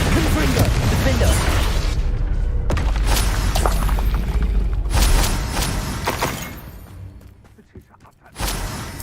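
Explosive spell impacts from a Harry Potter video game land as a string of heavy booms, crashing bursts and whooshes, loud and dense, with voices shouting over the blasts.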